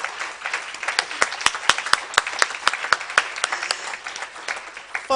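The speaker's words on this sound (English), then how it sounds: "all of us should give the UN Caribbean a resounding round of applause" A conference crowd at a closing session gives a round of applause for the UN Caribbean: scattered, distinct sharp claps ring out over a softer bed of clapping, fading toward the end.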